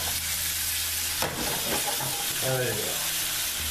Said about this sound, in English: while the onions are getting sizzling here